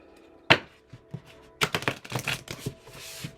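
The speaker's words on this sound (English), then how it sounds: "One more shuffle." Cards being shuffled close by, one sharp snap followed by a few scattered taps and then a quick run of crisp riffling bursts.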